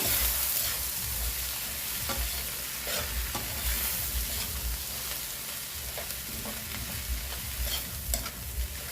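Pre-boiled mung beans are sautéed in a pan for ginataang monggo, giving a steady, loud sizzle with continuous stirring and scraping sounds close by, and no voices.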